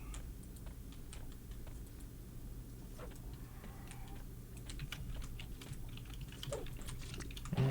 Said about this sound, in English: I'm still typing out my promotion thing